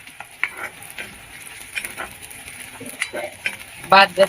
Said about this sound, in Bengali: লালচি করে ভেজে নিতে হবে রসুন